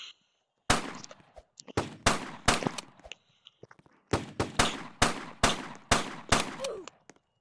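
Shotgun fire in a video game, a series of about ten sharp, loud blasts in uneven bursts, each with a short decaying tail, separated by brief gaps of near silence.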